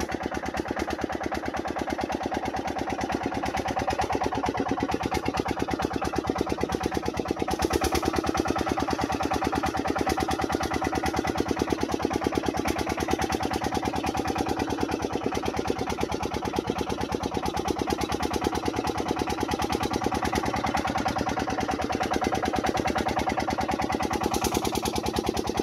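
A boat engine drones steadily as the craft turns on a swollen river in the Sundarbans mangrove forest, a constant mid-to-low hum with no talk heard.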